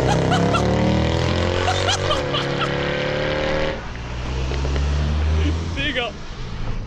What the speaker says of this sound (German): Digga, die Karre, die ist so laut, Alter, ich schwör!